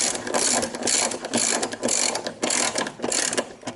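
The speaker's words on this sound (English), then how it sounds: "So we're just going to put in our other screws, and then we'll snug them first." Screws are started by hand with a ratcheting driver while reassembling a Sears Kenmore Elite Oasis washing machine after a drive bearing repair. The ratchet makes close, rapid clicking bursts that repeat in short strokes with brief pauses between them.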